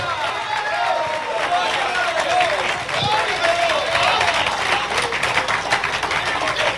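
Church congregation applauding during a sermon, a steady wash of clapping from a crowd heard throughout, with a preacher's voice talking over it.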